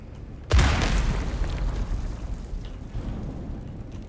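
A landmine goes off in the video game Dune Awakening as a single sudden heavy boom, followed by a long low rumble that fades slowly, loud and close with no talk.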